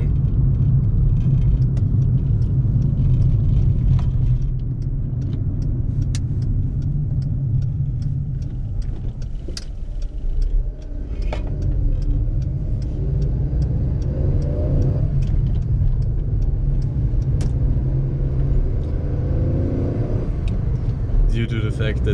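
Inside a VW Fox with a 54 hp engine while driving, a heavy steady drone of road and engine noise fills the cabin, with a voice talking over it throughout.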